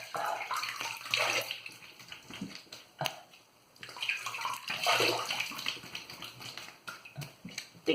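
Tap water runs steadily while a razor and face are rinsed after a wet shave with a Semogue 830 brush and Stirling lather, a close broadband rush that swells and dips, with a brief quieter gap midway.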